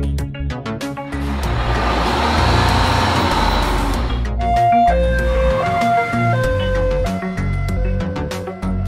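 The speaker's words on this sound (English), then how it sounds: "Wildland fire engine." A wildland fire engine gives a loud engine whoosh, then a stepping two-tone siren wails in alternating pitches through the second half.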